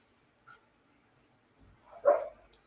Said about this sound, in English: There's my dog talking shit.